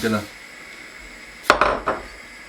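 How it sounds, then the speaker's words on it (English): Red lentils being stirred in a pot of water: a short faint scrape, then a few close, sharp knocks of the spoon against the pot. "stirring so that I don't get any lumps"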